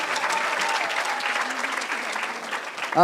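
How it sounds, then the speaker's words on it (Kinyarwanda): Warm, sustained applause from a graduation audience greeting new graduates, a dense steady patter of many hands filling the space, with a brief voice near the end. "Amashyi menshi cyane nanone ku alumni bashya"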